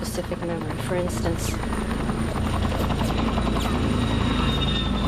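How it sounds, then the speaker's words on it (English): Helicopters flying overhead, a loud continuous rotor chop and engine drone that fills the whole stretch while a voice talks over it. "helicopters flying overhead"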